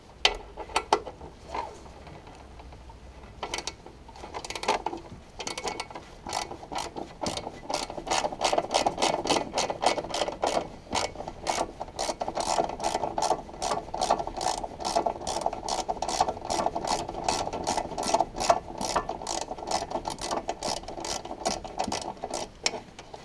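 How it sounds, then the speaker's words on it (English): A ratchet wrench clicks steadily while backing out a 13mm bolt on a VW Sharan engine during a timing belt and water pump job, with rapid close-up pawl ticks repeating in long continuous runs. "Next we remove this 13mm bolt"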